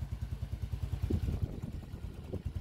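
A repaired motorcycle ticks over at idle with a steady, low, even putter, now noticeably quieter after its muffler was fixed; the engine runs alone with no talk.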